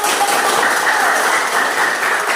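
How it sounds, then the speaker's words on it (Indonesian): A classroom of students claps together at the end of a lesson on respiratory system disorders, a dense, steady burst of applause filling the room for a couple of seconds with no talk over it. "Tepuk tangan untuk"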